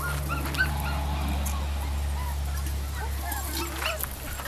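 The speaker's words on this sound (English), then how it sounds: "Puppies everywhere." Portuguese water dog puppies whimper and yip in many small, high overlapping cries close by, over a steady low hum, with a voice speaking now and then.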